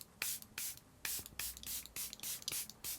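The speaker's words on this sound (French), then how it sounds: "On va remettre une touche de spray de finition." A Charlotte Tilbury finishing setting spray is spritzed in about eight quick, close pumps, each a short hissy burst with small gaps between them, and no talking.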